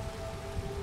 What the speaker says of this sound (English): Of course, there's rain, so that's good.